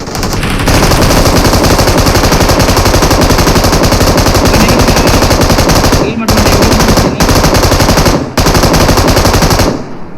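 Rapid automatic gunfire from a BGMI mobile battle royale match, loud and nearly continuous in long sustained bursts with brief gaps near the end, faint voices underneath.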